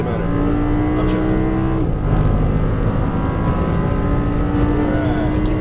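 An Audi R8 V10 accelerating at full power on a racetrack, a loud, close engine roar climbing in pitch, dropping briefly at a gear change, then rising steadily again.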